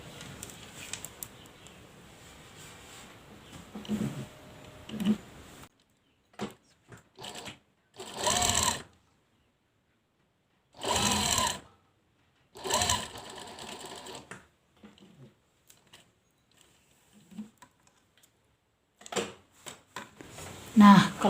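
Sewing machine stitching a buttonhole, heard as several short separate bursts of close stitching with quiet gaps between them, after an opening stretch where someone talks.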